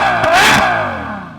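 A Ferrari FF's front-mid-mounted V12 rises in a brief, loud rev, then fades away smoothly and echoes over about a second.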